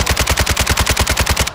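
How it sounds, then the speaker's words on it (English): Rapid automatic gunfire from a Call of Duty-style shooter video game: a loud, close, evenly spaced burst of about fifteen shots in quick succession. "Shots all on him right now."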